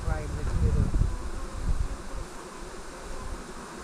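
Honey bees buzz in a hive below, a steady drone that is louder early on and then eases to a lower, even hum.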